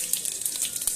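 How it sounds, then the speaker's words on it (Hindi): Cumin seeds hit hot oil, making a bright, steady sizzle with small crackling pops, loud and close throughout one second. "ऑयल हमारा गर्म हो चुका है। हम इसमें डालेंगे ज़ीरा"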